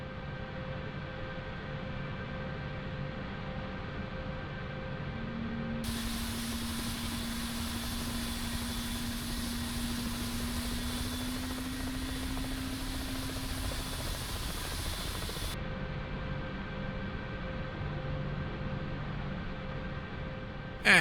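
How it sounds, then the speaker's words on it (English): An AH-64D Apache helicopter's engine runs through its start-up in the DCS World flight simulator, a steady turbine whine and drone with a rising tone partway through, continuous and fairly loud. "I really love the sound from the Apache."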